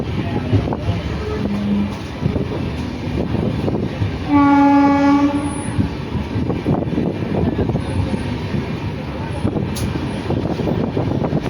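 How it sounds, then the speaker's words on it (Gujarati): Train rumbling into Jetalsar junction, with continuous loud rolling noise and clattering, and a single steady horn blast of about a second near the middle. "આપણે હવે જેતલસર જંક્શનમાં આપણે એન્ટર થઈએ ટ્રેન."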